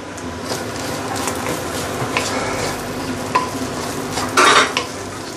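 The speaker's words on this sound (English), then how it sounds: "Give it a few stir and it is done." Nasi goreng, Indonesian fried rice, being stirred in a pan: scraping strokes of a utensil against the metal over a soft sizzle, with a louder clatter near the end and no talk.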